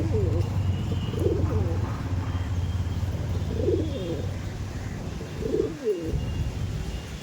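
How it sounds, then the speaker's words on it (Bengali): Pure-breed pigeons kept for sale coo softly in a few spaced, repeated calls over a steady background hum, fairly faint and at moderate distance. "আমাদের সোহমদার একদম র ব্রিডের পায়রা আছে"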